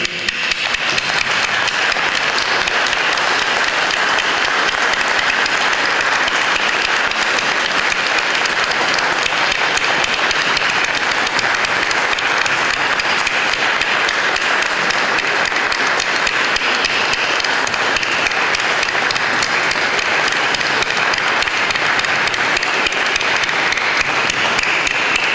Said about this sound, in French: un tonnerre d'applaudissements comme Kievrochain sait le faire